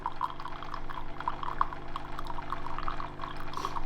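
A coffee machine running water through its system: a steady mechanical hum with a gurgling, trickling flow of water layered on top, continuous and close for the whole stretch.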